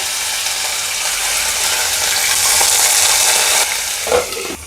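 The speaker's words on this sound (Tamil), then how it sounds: "இந்த வெங்காயம் போடும் போது அப்படியே தெரிக்கும் அது மூடி வச்சிடணும்" Small onions hit hot oil for dosa cooking and set off a loud, dense sizzle that stays steady for several seconds, then drops off, followed by a brief clatter near the end.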